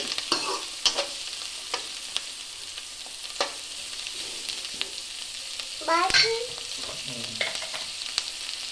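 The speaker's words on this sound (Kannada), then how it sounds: "ಸಣ್ಣದಾಗಿ ಮೂರರಿಂದ ನಾಲ್ಕು ಉಳ್ಳಾಗಡ್ಡೆಯನ್ನು ಕಟ್ ಮಾಡ್ಕೊಂಡಿದ್ದೀನಿ ಬ್ರೌನ್ ಕಲರ್ ಆಗೋವರೆಗೂ ಫ್ರೈ ಮಾಡ್ಕೊಳ್ಬೇಕು" Finely chopped onions frying in a pan until brown, a steady low sizzle with scattered stirring clicks and scrapes, fairly quiet and close, with no talking.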